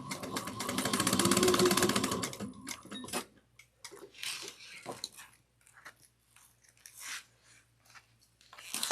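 A sewing machine stitches fabric along an angled seam for a Carlotta Commuter project, a steady loud mechanical whir for the first few seconds, then quiet handling clicks and rustles.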